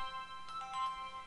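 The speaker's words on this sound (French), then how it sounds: "Désolé, c'est mon téléphone qui sonne." A mobile phone ringtone chimes in a quick melodic run of bright tones, fairly faint and heard alone without talk during a poker session.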